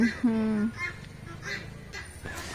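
Goose-like honking bird call from a farm garden, a loud harsh note at the start followed by fainter calls, with a voice talking over it.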